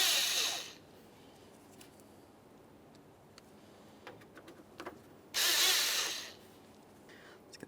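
Phillips head screws are driven into horn mounting hardware on a 1994-1997 Honda Accord, with two bursts of a power driver, one at the start and one later, separated by faint ticking and handling noises.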